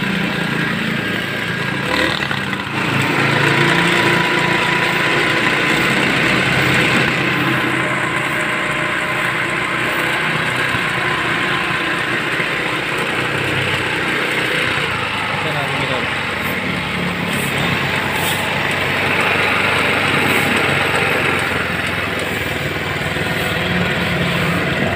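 A Motorstar Easyride 150 motorcycle engine runs steadily nearby after being started, a continuous rough drone with a faint higher whine, while someone talks over it now and then.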